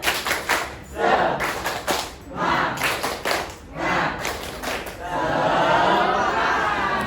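Students in a classroom repeat a rhythmic spirit clap, with several sharp group clap bursts in a set pattern alongside shouted chanting, then a longer stretch of continuous applause with chatter and laughter.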